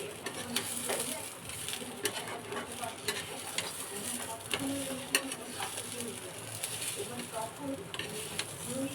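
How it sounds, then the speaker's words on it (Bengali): Vegetarian khichuri stirred in a pan after bay leaf and a little turmeric go in, with soft scraping strokes over a low sizzle and scattered light clinks of the spoon in a home kitchen. "এবারে নাড়িয়ে দেবো।"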